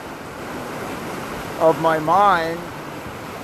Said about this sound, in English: soothed by the crashing waves